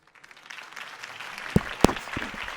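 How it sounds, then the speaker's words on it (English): Crowd applause at a political rally in a Telltale Batman video game, a soft, dense patter of clapping that builds over a couple of seconds, with a few sharper, louder claps standing out near the end. "If only Mr. Wayne, my campaign's largest backer, could have heard that applause"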